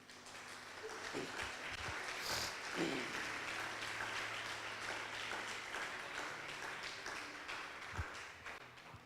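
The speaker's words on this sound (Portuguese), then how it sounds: "Sente dando uma salva de palmas para Jesus." Church congregation applauding together after a closing prayer, a steady wash of clapping running under the whole stretch at moderate level with a few sharper knocks and faint voices.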